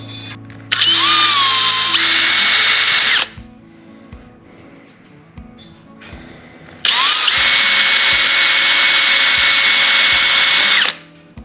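A power drill whirs loudly in two long bursts separated by a short quiet gap, the motor pitch rising as it spins up, close by, drilling through a plastic fishing bobber.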